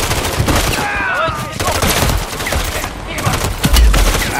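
Gunfire in the video game Call of Duty: Modern Warfare III, loud sustained bursts of automatic fire and battle noise with radio-style voices talking over the combat.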